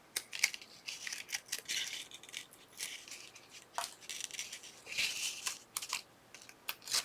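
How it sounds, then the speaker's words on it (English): Resist tape peeled off the back of 3D foam adhesive on a fussy-cut paper piece, with close, quiet crinkly tearing and rustling in short bursts. "So I'm just going to pull off that resist tape."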